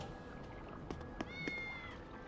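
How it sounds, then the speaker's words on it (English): Cats meowing in the video game Tales of Berseria, a few short faint mews over a steady background of wind and waves with game music. "I love cats."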